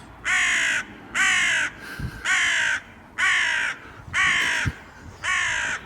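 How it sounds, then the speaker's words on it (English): A crow caws from a tall tower at an old salt works, six harsh evenly spaced calls about a second apart, loud and clear over quiet background with a couple of faint knocks between. "a crow telling us all about it"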